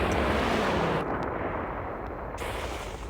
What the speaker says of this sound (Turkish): Ve sonra bunlardan biri bir nükleer bomba çıkardı. Ve onu patlattı.